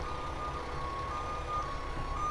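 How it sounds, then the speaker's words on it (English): A truck's reversing alarm on a city street in Dupont Circle, Washington DC, gives steady repeated high beeps over a constant low engine rumble and street noise, with no talking. "That is a very loud and a bit annoying truck right there."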